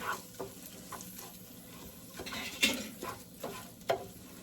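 Minced garlic cooks on high heat in a pot for yellow rice with vegetables, giving a faint, soft sizzle. Occasional stirring clinks and scrapes rise above it.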